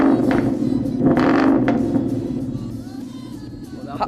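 A car fitted with a Corsa Extreme Quad exhaust revs, giving a deep, fairly restrained engine rumble that swells, then eases back toward a low idle.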